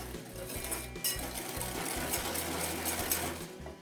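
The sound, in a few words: whisking butter and sugar cream with a whisk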